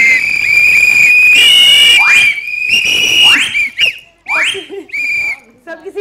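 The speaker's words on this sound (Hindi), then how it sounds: "सबकी सीटियां चल रही हैं" A group blows whistles together, loud and shrill, with overlapping sustained tones and short rising blasts that break into scattered toots toward the end, and voices briefly heard between them.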